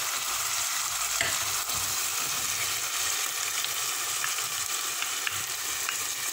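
Tomatoes fry in a pan for a tomato kefta dish, giving a loud, steady sizzle with occasional light stirring scrapes throughout and no talking.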